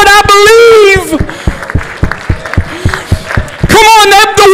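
A church congregation claps hands in a fast, steady rhythm between stretches of a preacher's loud, sung-out exhortation, the clapping standing alone in the middle and overlapped by voice at the start and end.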